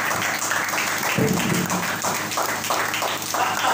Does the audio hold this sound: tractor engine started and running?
no